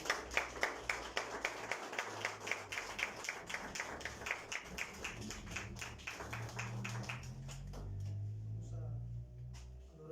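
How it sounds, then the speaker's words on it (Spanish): A church congregation at a Sunday service claps in a steady rhythmic beat for about seven seconds, the sharp claps fading into a low murmur and hum by the end. "Dale un fuerte aplauso al Señor."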